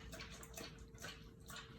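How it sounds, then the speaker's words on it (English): A dog laps water from a bowl after surgery, a steady close wet lapping and splashing with no pauses. "he's drinking water"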